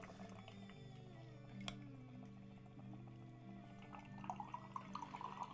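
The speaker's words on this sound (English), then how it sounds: "So again, I'm just pouring tea" Tea trickles and pours into a cup at close range, a faint, low liquid stream with small drips, quiet and unaccompanied by speech.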